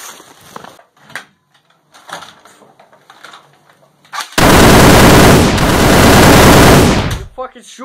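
A sudden burst of loud, rapid automatic gunfire erupts indoors after a stretch of quiet voices, sustaining a dense rattle for about three seconds before cutting off.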